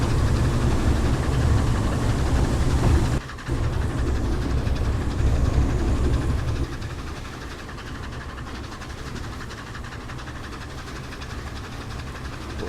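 A steam locomotive in Train Simulator 2017 on a railway run, its pistons pumping in a steady, loud rumbling chug that eases to a lower, quieter level partway through, with no voices.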